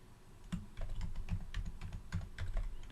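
A file name being typed on a computer keyboard while coding a Java class: a rapid, steady stream of close key clicks with a dull thump under each stroke, without pause for about three seconds.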